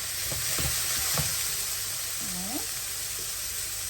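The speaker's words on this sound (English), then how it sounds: "stir occasionally" Mushroom masala sizzles steadily in a pan, with a few soft stirring knocks early on and a faint voice-like murmur partway through, close and even in level.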